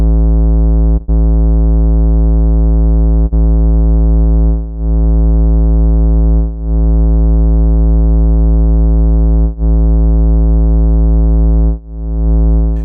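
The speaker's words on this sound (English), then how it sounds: "Dropout takes the volume level change to an extreme and will insert random mutes, with 4 variations in behavior." A steady buzzy synth tone with a lo-fi dropout effect cuts out at irregular moments, giving brief random mutes and dips that break up the drone, loud and alone.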